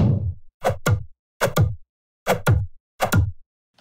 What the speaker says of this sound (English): We just need some more whooshing effects in between here.